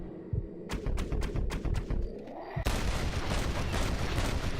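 Gunshots crack in Red Dead Redemption, a run of sharp, loud reports spaced close together, then a sustained barrage of heavy fire and rumble that fills the rest.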